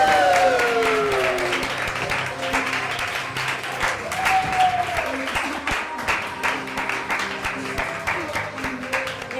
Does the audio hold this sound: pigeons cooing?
no